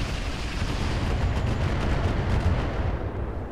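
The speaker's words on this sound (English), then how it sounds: "Just sit there and mortar this guy." Mortar fire in the BattleTech-based game Roguetech, a dense, loud run of booming artillery blasts and rumble that carries on steadily with no talking.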